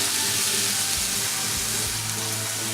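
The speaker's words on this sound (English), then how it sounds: "In this step, I'm just basically kind of heating the veggies through a little bit" Garlic and vegetables frying in a hot pan for homemade tofu fried rice, a loud, dense, unbroken sizzle up close, with no voices.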